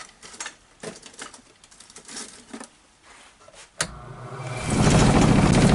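A small wood lathe, set up to turn a hard pine bowl, starts up and ramps into a loud, steady whirring hum that builds over a couple of seconds after quieter handling noises and a sharp click.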